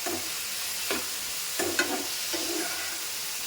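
Mushrooms fry in a pan with a steady low sizzle, marked by a few soft scraping stir strokes spaced about a second apart, with no talking.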